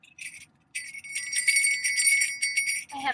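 A small jingle bell worn on a necklace rings with a bright, rapid tinkling, shaken in quick bursts close by and fairly loud, then stopping abruptly as a brief voice sound follows.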